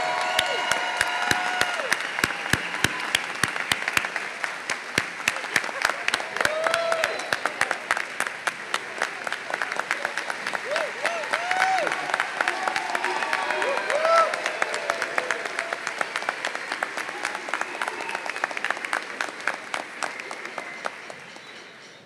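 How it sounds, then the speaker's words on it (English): Audience applause with some cheering at a high school ribbon cutting and centennial event, long sustained crowd clapping that rises and falls, with voices and sharp close claps mixed in. "let's give a round of applause"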